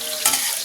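Garlic fries in a pan for a Bengali taro dish, heard as a bright, close, steady sizzle with one brief sharper burst of crackle as it is stirred.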